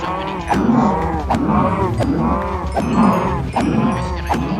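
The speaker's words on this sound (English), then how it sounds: "I have so many cows." Several cows mooing in Minecraft, overlapping long lowing calls repeating close by and loud, one after another.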